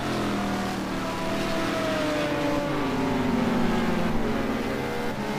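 BMW GT2 race car in a video game at Zhuhai, engine note rising and shifting steadily as it accelerates, a loud continuous drone with other car engines blended in throughout.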